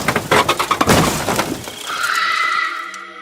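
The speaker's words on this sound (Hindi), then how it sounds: "और बहुत तेज लिफ्ट के टकराने की आवाज आती है" A loud elevator crash sound effect in a spoken horror story: a burst of clattering, breaking impacts, followed by a ringing, sustained metallic tone, with no voices.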